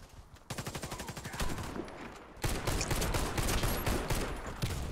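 Loud gunfire in the online shooter Warface: a quick rhythmic burst of shots, a brief lull, then a heavy continuous volley with overlapping fire and clattering impacts until the end.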